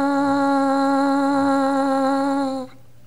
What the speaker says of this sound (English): Start your buzz with the syllable ta